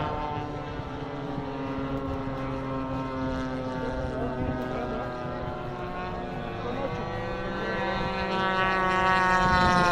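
Radio-controlled P-51D Mustang scale model plane rated for 200 mph, twin-engine GP76 setup, its engine whine rising and shifting in pitch as it flies past, growing louder near the end.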